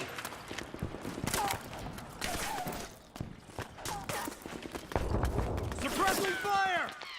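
Sporadic gunfire bursts in Metal Gear Solid 4 crack out amid shouting soldiers and game effects, with clusters of sharp reports spread across the scene beneath frequent talk.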